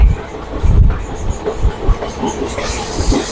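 A passenger train travels from Rayakottai toward Bengaluru, its wheels thumping and clattering over rail joints in an uneven rhythm beneath a continuous rumble, heard close from on board.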